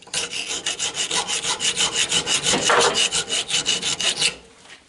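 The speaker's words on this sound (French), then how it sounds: "évidemment, ébavurage" Rhythmic rasping strokes of a file deburring freshly made metal door adjustment shims for a Citroën Traction 11B, about two dozen quick even scrapes close up, stopping near the end.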